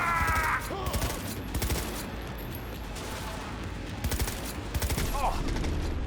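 Rapid automatic gunfire in the video game Cyberpunk 2077, dense bursts of shots over a few seconds with weapon and game effect noise, close and loud.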